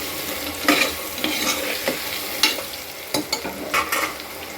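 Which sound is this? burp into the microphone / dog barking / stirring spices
stirring spices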